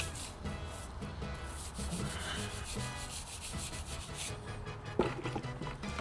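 A wheel and barrel brush scrubs a car wheel during a deep clean, giving a repeated close rubbing and swishing rhythm with a knock near the end.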